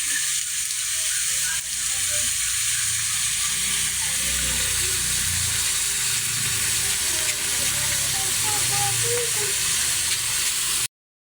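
Pinakbet vegetable stew hisses and sizzles loudly in a hot pan as water is poured in, a dense steady crackle and steam hiss that barely varies.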